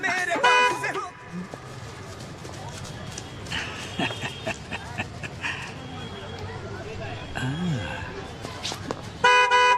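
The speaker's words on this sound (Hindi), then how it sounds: "रोड में गाड़ी तो दिख नहीं रही, खामखा हॉर्न क्यों बजा रहे हो?" Several short car horn toots sound at the start and end, with traffic noise and some voices and other street sounds in between.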